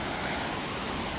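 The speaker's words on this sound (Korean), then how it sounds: "지금 들어보시면 아시겠지만 물소리가 굉장히 우렁찹니다" Rushing water of a mountain valley stream in a mossy ravine on Gariwangsan, Jeongseon, swollen after heavy rain: a steady, dense roar heard close, with no pauses and no voices.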